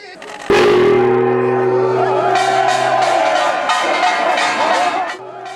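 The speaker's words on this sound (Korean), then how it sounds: "400여 영호남 주민들의 함성이 울려 퍼집니다" Around 400 residents cheer together on the Seomjin River's Namdo Bridge on a rainy spring day. A loud collective shout bursts out and holds, with sustained tones ringing beneath it and the crowd's voices rising and falling.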